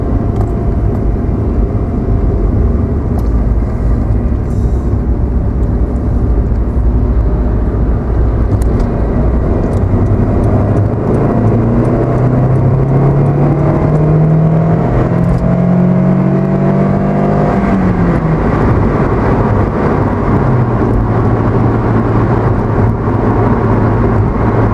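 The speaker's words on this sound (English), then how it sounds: "I'm going to climb on a dual carriageway and I'll just show you what the T-Sport Yaris is capable of on the" A Toyota Yaris T-Sport at speed on a dual carriageway: a loud, steady engine drone with heavy road and wind roar, the engine note climbing and shifting pitch as it gathers pace, recorded from inside the car.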